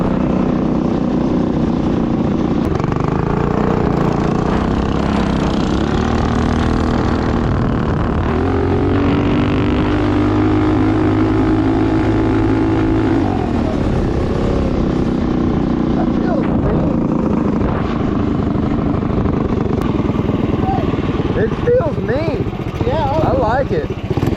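A Wildcat 240RS engine fitted with a forged piston idles high and runs rich, a steady loud drone that never settles, with someone talking over it throughout.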